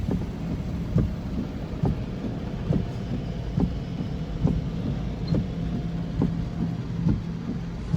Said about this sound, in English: it is really raining big time